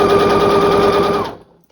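A sewing machine chain-piecing quilt squares runs in a rapid, steady burst of stitching for about a second and a quarter, then stops abruptly, leaving near silence.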